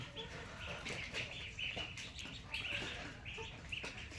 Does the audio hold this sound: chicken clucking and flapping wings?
yes